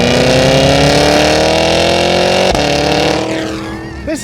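A 2025 Cadillac Escalade V three-row SUV roars hard under acceleration, a loud close engine note climbing steadily in pitch, briefly breaking at a gear change, then dropping away as the run eases off.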